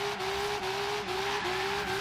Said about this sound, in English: Do some donuts here. Yeah, you can see the front wheels start to spin just a little bit.